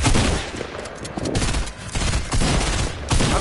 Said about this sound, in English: Why are you shooting with a shotgun?